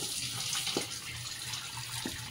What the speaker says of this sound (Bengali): চলো জলটা ঝাড়িয়ে নিই, ঢেলে দিচ্ছি